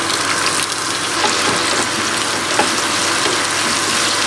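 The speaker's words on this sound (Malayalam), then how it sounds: "ഈ ഓയിൽ ചൂടാവുമ്പോൾ അതിലേക്ക് സവാള ചേർത്ത് കൊടുക്കുക." Sliced onions fry in hot oil for a Kerala-style chicken dum biryani, giving a steady, loud, close sizzle and crackle with faint stirring scrapes and no voices.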